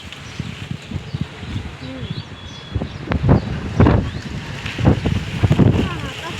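Strong wind gusts through a mango orchard where ripe fruit has dropped to the ground, buffeting the microphone in rough, rumbling surges that grow heavier toward the end, with faint bird calls in the background.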